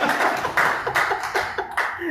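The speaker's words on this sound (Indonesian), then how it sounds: "Yang setuju sama saya tepuk tangan buat Tuhan Yesus." Bursts of clapping from a church congregation break out repeatedly over a few seconds, mixed with voices and a bit of laughter.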